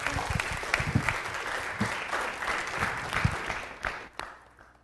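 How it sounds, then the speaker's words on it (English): An audience at a city council meeting applauds for several seconds, many hands clapping in a steady, close wash that tapers off at the end. "let's have a round of applause for those future leaders."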